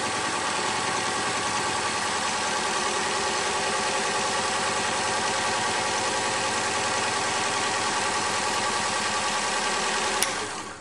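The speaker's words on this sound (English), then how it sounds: "I'll fill this first cartridge with 2 cycles because the lines weren't primed." An ink cartridge fill station runs a fill cycle with a steady, even mechanical hum and buzz that holds constant for several seconds before a brief click near the end.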